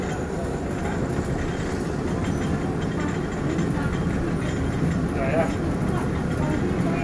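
Ordinary passenger train 262 runs on a Thai railway near Ton Samrong station, giving a steady, loud rumble and rolling wheel noise that holds constant throughout, with a faint brief squeal partway in.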